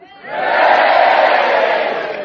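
A studio audience at the City of Varieties in Leeds, Yorkshire, breaks into a loud, sustained swell of cheering and shouting that rises quickly and holds, slightly easing at the end.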